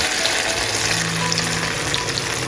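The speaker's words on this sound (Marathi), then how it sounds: "चला चटणी त्याच्यात ॲड करूया आणि मीठ घालून फोडणी देऊया" Chutney poured into hot oil for a tempering with salt, during fasting-day cooking of sabudana vada chutney, gives a loud, steady, continuous sizzle and frying crackle.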